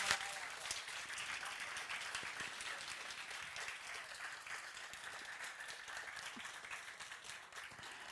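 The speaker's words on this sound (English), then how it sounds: "So I would just do one applause for all the teams that presented today." A hackathon finale audience gives sustained applause for the presenting teams, steady clapping from a crowd heard from some distance, fairly faint and even throughout.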